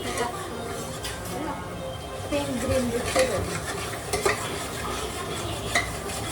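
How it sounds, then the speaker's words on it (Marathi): Onions stirred and frying in a pan after ginger and garlic paste, with a soft steady sizzle and scraping spoon strokes, close by, while people talk over it. "त्याच्यानंतर कांदा मारून घ्यायचा"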